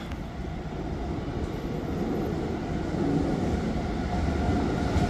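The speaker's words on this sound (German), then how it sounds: "C1 mit Baureihe 101 in Front hat Einfahrt." A train hauled by a class 101 locomotive rolls into Hamburg Hbf, a low, steady rumble that slowly grows louder, with no talking.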